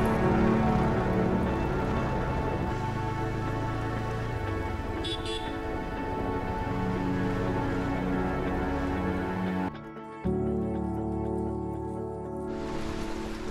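Heavy rain pours steadily on surfaces at Munlai Para in Bandarban, a dense continuous roar, close and loud, cutting out briefly for a moment before resuming.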